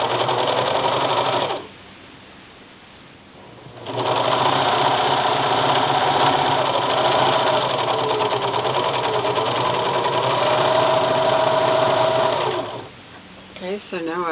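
A sewing machine runs in long continuous bursts stitching the seam of a soap bag, a steady rapid mechanical whir that pauses briefly and then resumes, with faint background hum between runs.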